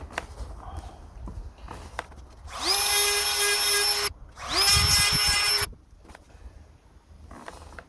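A Dremel chainsaw sharpener files the teeth of a chainsaw chain in two close, loud bursts of high motor whine. Each burst spins up quickly and holds steady, with quieter handling noises between and around them.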